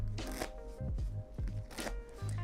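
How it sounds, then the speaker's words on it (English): Light shuffling of a deck of playing cards, a soft riffling and sliding in several brief bursts over a quiet background hum, close and gentle. "So light shuffles, nice little light shuffles."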